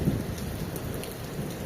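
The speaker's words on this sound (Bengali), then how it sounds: "এখন বৃষ্টি হতেছে" Steady rain falls outdoors in Saudi Arabia shortly after a hailstorm, a dense continuous patter of drops on surfaces with a low rumble underneath, even and unbroken throughout.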